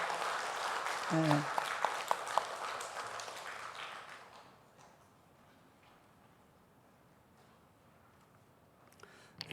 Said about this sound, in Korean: 격려하는 박수를 보내겠습니다